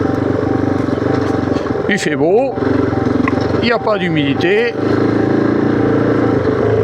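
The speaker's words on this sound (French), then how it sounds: "on est sur la moto et on attaque." Kove 450 adventure motorcycle riding along a trail in Aquitaine, its engine a steady, close drone running throughout while someone talks over it.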